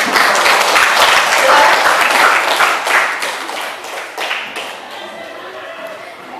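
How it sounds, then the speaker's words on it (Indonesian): Students in a classroom applaud group 1 with loud, dense clapping that stays strong for about three seconds and then thins out under a lingering murmur of voices. "Untuk memberikan semangat kepada kelompok 1, berikan aplaus dulu."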